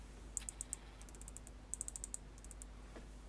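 Wattage button on a Freemax Twister 80W vape being clicked through its settings, two quick bursts of crisp, light clicks close by in a quiet room.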